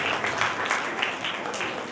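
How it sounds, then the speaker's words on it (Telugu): Audience applause welcoming a guest onto the stage at a Karnataka-community Karthika month feast gathering, a moderate crowd clapping steadily in uneven bursts, with some background chatter. "క్లాప్స్ కొట్టండి, క్లాప్స్, అభినందనలతో వెల్కమ్ చెప్పండి."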